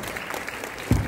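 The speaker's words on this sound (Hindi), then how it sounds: "जरा जोरदार ताली हो जाए।" An audience at a Mumbai festival event claps, a dense wash of many hands heard throughout the short clip, with a louder thump near the end.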